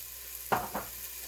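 Food cooking in a pan, a steady low sizzle with two quick scraping stir sounds close together, near and clear with no voices.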